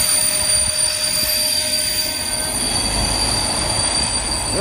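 A train passes close by in Brno, its wheels and cars producing a loud, steady rolling roar with high squealing tones from the rails, alone without voices.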